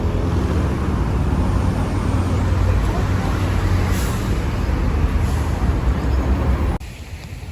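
Road traffic roars steadily at a bus stop in Rio de Janeiro near Copacabana, a loud broadband rumble of passing cars and buses that drops abruptly near the end, with a person speaking over it.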